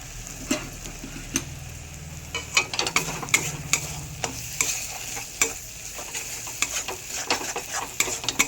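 Masala with cumin powder frying and being stirred for a prawn malai curry, a steady sizzle broken by repeated sharp scrapes and taps of a spoon against the pan, close and fairly loud, with no speech.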